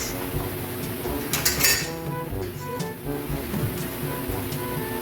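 Whisk or spoon clinking steadily against a bowl while crepe batter with a little canola oil is mixed, a continuous close scraping and tapping rhythm with a few sharper metallic clinks.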